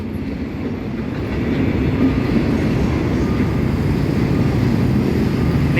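A heavy freight train with boxcars rumbles past nearby near Bang Sue Junction, Bangkok, with a loud, steady roar of wagons and rails that swells after the first second.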